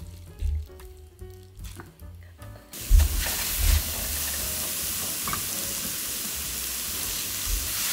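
Oyster mushrooms cook in a dry pan with no oil, first a few soft handling knocks, then a sudden broad sizzling hiss that holds steady and close.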